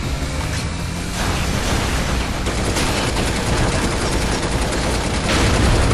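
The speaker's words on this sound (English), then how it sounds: "Shooting everything I can." Sustained, loud gunfire while shooting robots in the Binary Domain game on Xbox 360, a continuous close barrage of rapid shots and impacts with no let-up and no voices.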